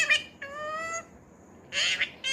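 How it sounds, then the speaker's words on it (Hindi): Pet parrot giving short, bright squawking calls in two or three separate bursts with brief quiet gaps between them, fairly close and moderately loud, with no talk. "ये दूसरे तोते की आवाज़ सुनते ही भागा भागा आता है ना?"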